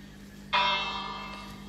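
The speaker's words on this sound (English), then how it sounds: "also we need the bell to announce that" A single bell in the Minecraft video game rings out once, striking sharply and then sustaining a bright, shimmering tone that slowly fades over a steady low hum.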